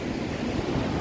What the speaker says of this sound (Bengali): দেখতে পাচ্ছ সেই আওয়াজ ঢেউয়ের